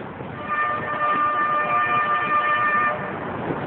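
A train sounds a long, steady horn blast lasting a couple of seconds over a low background rumble, with no talking.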